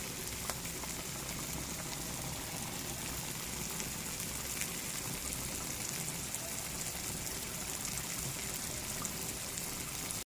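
Steady, dense sizzling and bubbling of chicken and spices frying in hot oil, continuous and close, with no talking.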